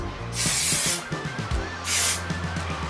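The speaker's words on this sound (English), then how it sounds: "we are going to apply some hairspray" Matrix Total Results hairspray misted onto curled hair in two long close bursts of hissing spray, with faint handling sounds between them.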